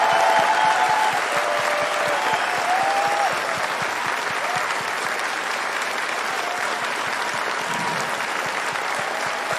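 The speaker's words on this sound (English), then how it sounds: "could we just have a little round of applause for these guys?" Sustained applause from a live event audience at TennoLive 2018, steady clapping filling the whole stretch, fairly close and even in loudness.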